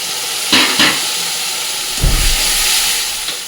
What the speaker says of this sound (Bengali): এখন মশলাটা কষাতে হবে যতক্ষণ না মশলা থেকে তেলটা ছেড়ে দিচ্ছে